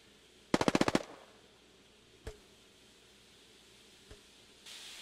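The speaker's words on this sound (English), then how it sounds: "the bullets are flying like RPGs" A rapid burst of about seven close gunshots in Hell Let Loose, followed by two isolated faint cracks of passing bullets against a quiet, hissing background.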